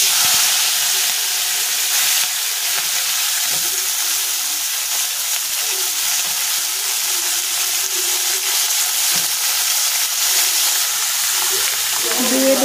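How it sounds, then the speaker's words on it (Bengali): Vegetables frying in reused oil on a stove for khichuri, a steady broadband sizzle and hiss running throughout at an even level, with faint kitchen clatter and no clear talk. "এখানে সবজিটা একটু ভেজে নেব।"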